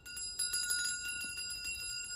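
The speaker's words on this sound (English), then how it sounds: "We've got a bell." Small hand bell rung indoors during a ghost hunt at Boleskine, giving a few faint, bright metallic dings with a short ringing decay against a quiet background.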